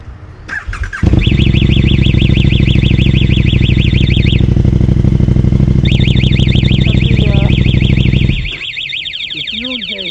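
Vehicle alarm blaring loud and close over a running motorcycle-like engine, a rapid warbling siren that cuts out briefly midway and then resumes before the engine drops off near the end.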